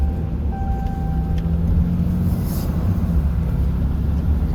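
A single-rear-wheel pickup truck towing a heavy 40-foot Gator trailer on the road gives a steady, loud, low engine and road rumble that continues throughout, with no talking.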